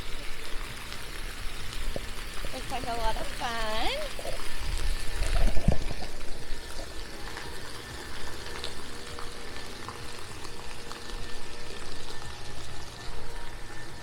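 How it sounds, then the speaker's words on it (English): Water sprays and splashes continuously at a splash pad at Disney's Contemporary Resort, a steady hissing rush with a brief louder burst, while a person speaks and a voice chirps over it. "Little splash pad here."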